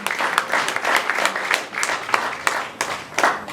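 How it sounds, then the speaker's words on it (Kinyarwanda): A church congregation breaks into sustained applause, a dense wash of many hands clapping with irregular louder bursts throughout, no speech over it. "Amashyi menshi ku Mana."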